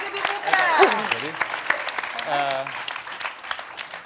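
Scattered studio audience clapping for a guest on an Indonesian talk show, light and uneven, with voices talking and calling out over it throughout.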